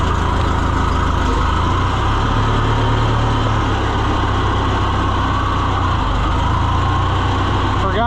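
An old truck engine rumbles loud and close at a steady idle for the whole stretch.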